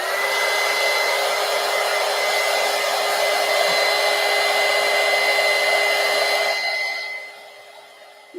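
Hair dryer blowing steadily and loudly at close range to dry paint on a mixed media poster, a continuous whine with a steady hum that cuts off near the end.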